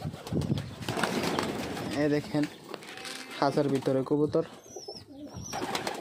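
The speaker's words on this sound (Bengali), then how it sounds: "দেখেন কত সুন্দর কবুতর, অনেকগুলা আছে এটার ভিতরে, সব সাদাগুলা" White pigeons coo in a coop, a run of repeated throaty coos in the middle, with someone talking over them and rustling in the background.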